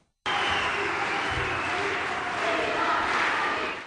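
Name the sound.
conference audience applauding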